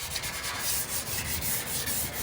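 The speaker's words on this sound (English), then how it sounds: "But really just scuffing it up so that my paint sticks." Abrasive scuffing of a boat trailer's metal surface before painting, a steady rough rubbing and sanding sound repeating in quick strokes, close and continuous with no talking.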